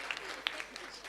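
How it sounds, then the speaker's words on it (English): Conference audience at a West Africa startup summit clapping, a brief patter of scattered claps with a few sharper hand strikes, fairly light and close, over a voice in the room. "Another round of applause."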